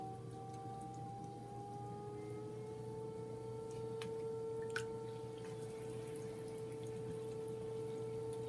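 Clay being thrown on a pottery wheel while water is added: a wet swishing and trickling sits over the wheel's steady motor hum, continuous and close throughout.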